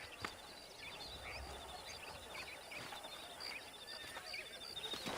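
A horse whinnies faintly in the video game Red Dead Redemption, amid hoofbeats and a low outdoor ambience, with no talking.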